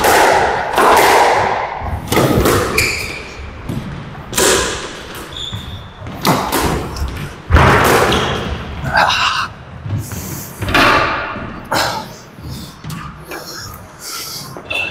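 During a squash match on an indoor court, a racket strikes the ball again and again in sharp, echoing thuds at an irregular rally pace, mixed with shouting voices.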